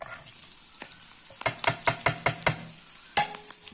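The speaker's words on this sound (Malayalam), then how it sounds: "ഇനി നമുക്കതിൻ്റെ ഈ കറിവേപ്പിലയും ചെറിയ ഉള്ളിയും വറ്റൽമുളകും തേങ്ങയെല്ലാം കൂടി ഇടാം" Curry leaves, shallots, dried red chillies and grated coconut tossed into a hot pan after mustard seeds have popped, sizzling and crackling close up with a burst of sharp spatters and stirring scrapes.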